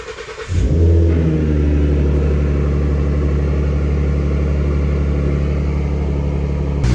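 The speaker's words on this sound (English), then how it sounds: "Now it is time to turn on the car and test to make sure. I guess I'll keep the hood open just to hear what it sounds" A 2010-2014 Ford Mustang fitted with a K&N Typhoon cold air intake starts up with the hood open, then settles into a loud, steady, low idle rumble that holds evenly for several seconds.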